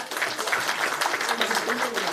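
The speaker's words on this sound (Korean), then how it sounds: "다시 한번 큰 박수 부탁드립니다." An audience applauds at a political event where Sohn Hak-kyu joins the People's Party, steady dense clapping filling the room from start to end, with a voice speaking over it.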